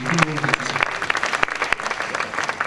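A live theatre audience at a comedy festival breaks into applause, dense rapid clapping from a crowd, loud and sustained, with a voice briefly heard at the start.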